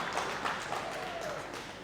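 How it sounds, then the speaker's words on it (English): An audience applauds guest speaker Dr. Kambona at a tax awards evening, a fairly faint and steady spread of clapping from a room of people, with a voice briefly audible underneath. "it also deserves another round of applause"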